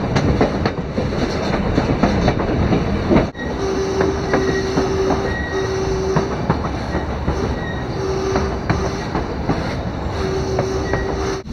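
A train on the White Pass railway rolls steadily along the rails with rhythmic clickety-clack and recurring thin wheel squeals, heard close from the caboose at the back of the moving train.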